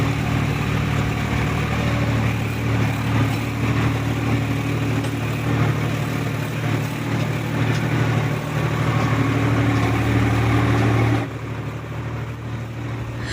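A tractor engine drones steadily and loudly through a ride along a roughly two-kilometre track to a mountain cave, a low continuous rumble that drops in level near the end, with no talking.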